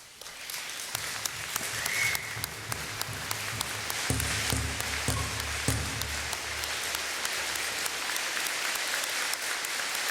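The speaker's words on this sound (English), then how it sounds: "let's honor them by standing and giving these graduates a round of applause." A standing audience applauds graduates at a fall convocation ceremony, a broad sustained wash of clapping across a large hall that swells and holds steady, with a low hum underneath.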